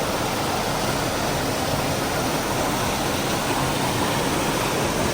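Constant rushing water roar from a video game waterfall, broadband and unbroken, heard close by with nothing else over it.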